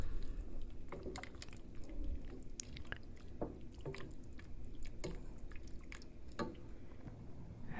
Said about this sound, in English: I'm going to go ahead and use this whole can of evaporated milk. Give that a stir.